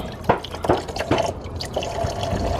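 Coolant draining from a disconnected reservoir hose on a 2016 Yamaha Raptor 700R ATV, heard as close, irregular drips and splashes of liquid falling into a container over a low background hiss.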